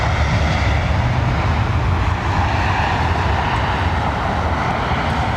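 An airliner's jet engines spool up at London Heathrow Airport, a loud, steady, broadband roar that holds unbroken throughout with no voices over it.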